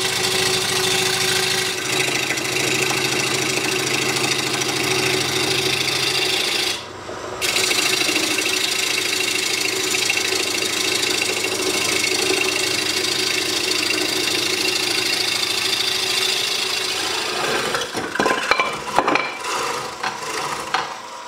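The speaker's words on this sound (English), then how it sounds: "that recess will allow us to mount it on the lathe" A redwood puck spins on a lathe, giving a steady, loud rasping, rubbing hum with a constant motor drone underneath, a brief dip just before seven seconds, and rougher scraping bursts near the end.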